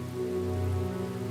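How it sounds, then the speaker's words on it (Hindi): Heavy rain falls in a steady, unbroken wash on a surface, loud and close, with no break and no voices. "लगता है बारिश और तेज हो रही है।"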